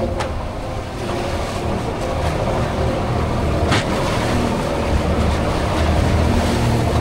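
Strong wind and big waves hitting a boat at sea, a continuous loud rushing wash with occasional splashes and slaps against the hull, steady throughout and with no talking.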